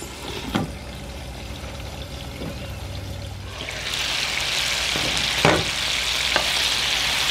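Tomatillos and poblano chiles frying in a pan, with a steady close sizzle that swells louder midway, broken by a few sharp clinks and stirring knocks.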